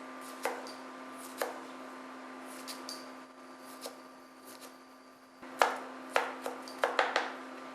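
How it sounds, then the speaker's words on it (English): A knife roughly chopping two big cloves of garlic on a board, a few sparse thuds followed by a quicker cluster of sharp taps, close and fairly quiet. "I just want to roughly chop this"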